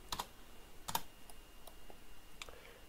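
A handful of quiet keystrokes on a computer keyboard, a few taps in small clusters over a low room hiss, close but soft, with no speech.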